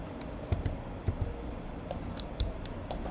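Scattered single key presses on a computer keyboard during animation software work, sharp isolated clicks spaced irregularly over steady low room hiss, close but light.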